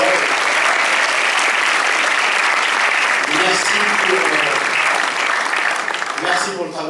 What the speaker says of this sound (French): Vraiment, applaudissements et d'or